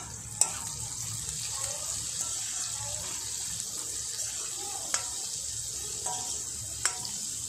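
Ridge gourd (gilki, turai) frying in a pan, with a soft steady hiss and a few sharp clinks of a utensil against the pan, fairly quiet and close.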